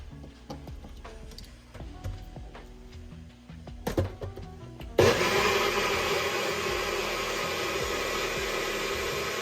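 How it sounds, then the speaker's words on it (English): An electric kitchen blender kicks on loudly and whirs steadily for several seconds while blending a smoothie, after quiet clinks and taps of the lid being set in place. "And then I'll put the lid on and blend it up."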